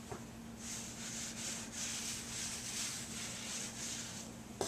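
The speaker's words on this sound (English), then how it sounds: "I want to cover the top with flour and rub it all over" Hands rub flour across rolled homemade noodle dough, a soft quiet repeated swishing in gentle back-and-forth strokes close by, with a faint steady hum underneath.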